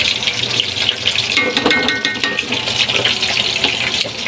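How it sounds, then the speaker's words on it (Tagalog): A pot of liquid bubbling steadily on the stove before jackfruit goes in, a continuous watery rushing and burbling close by with no talk over it. "medyo konting kulo pa bago natin ilagay itong langka natin"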